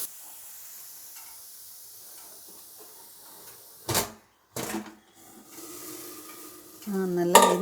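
A steamer lid is lifted and metal pots are handled after steaming leaf vadam in a home kitchen; quiet steam hiss, then a few sharp clanks of lid and cookware, ending with a louder metallic scrape and sizzle.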